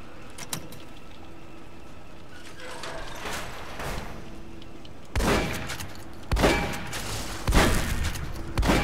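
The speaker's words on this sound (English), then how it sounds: "Oh my god, there's turrets." Turrets in the Fallout: New Vegas Lonesome Road DLC fire in loud rattling bursts, with sustained volleys of rapid shots that grow denser toward the end, mixed with game ambience and low hums.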